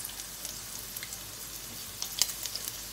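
Fermented pork belly (naem sam chan) grilling over low heat, giving off a faint steady sizzle with scattered small pops and crackles, quiet and close, no voices.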